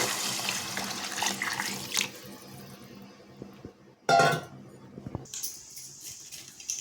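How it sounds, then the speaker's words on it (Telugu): Water pours from a tap or vessel onto rice for a meal-maker vegetable biryani, a brief gushing burst mid-clip amid kitchen clatter and faint sizzling, fairly close. "ఒక గ్లాసు బియ్యానికి 2 గ్లాసులు నీళ్ళు పోయాలా."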